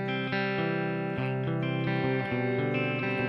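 Clean electric guitar played through a Boss Katana amp with plate reverb, a few sustained chords and notes changing steadily, close and fairly quiet, with no talking.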